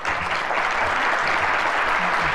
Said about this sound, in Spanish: Los vamos a despedir con un fuerte aplauso.